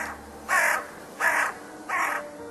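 A crow caws three times in a slow, evenly spaced series, each harsh call loud and close, with quiet gaps between and no voices.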